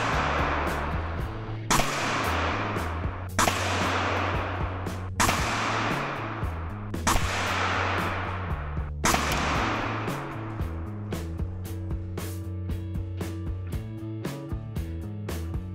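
A Leshiy 2 air rifle in 9 mm fires Hades pellets in a series of sharp, loud cracks spaced roughly two seconds apart, each followed by a brief ringing tail, with quicker metallic clicks toward the end.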